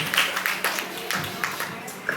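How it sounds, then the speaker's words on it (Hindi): Audience applause at a Rajasthan award ceremony, a steady wash of many hands clapping throughout the short stretch, fairly close and even, with no voices standing out. "जोरदार तालियां देवेंद्र जी के लिए और पूजा जी।"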